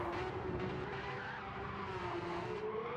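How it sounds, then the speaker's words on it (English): Race car tires squealing in Gran Turismo 7 during a Carrera Cup race, a continuous loud screech blended with roaring engines of a close pack of cars, steady and unbroken with no talk. "Hear a lot of squealing of tires and hopping of race cars"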